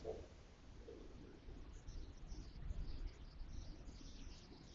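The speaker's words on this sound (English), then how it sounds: "So we have some very large pigeons." Very large, well-kept pigeons coo softly in the background, low murmuring calls under a faint steady hiss of insects or ambient noise, quiet and somewhat distant.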